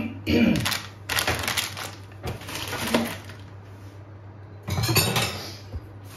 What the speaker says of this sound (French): On torréfie dans la poêle, on va mettre sur 7, hein, pas trop fort. On va torréfier ces graines.